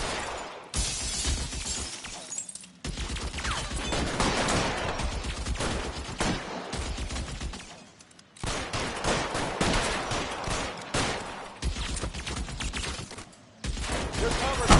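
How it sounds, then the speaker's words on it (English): Bursts of rapid gunfire in a shootout in the L.A. Noire video game, loud crackling volleys in several long stretches separated by brief pauses, with bits of speech mixed in. "He's shooting."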